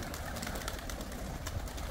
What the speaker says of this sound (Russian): вот такая вот бакинская птица